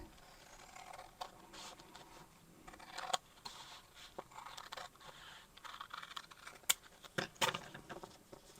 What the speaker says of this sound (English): So let's cut it across the bottom here like this.